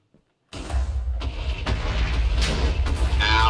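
TNT explosion in a Minecraft-style game, a sudden loud blast after a brief silence, followed by rumbling debris and a couple of sharp impacts.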